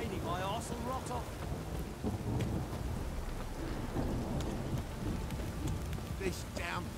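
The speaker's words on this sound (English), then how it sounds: "This downpour's a bastard, it is." A pounding downpour in the video game Witcher 3, steady dense rain with deep thunder rumbling beneath, and a voice speaking over it.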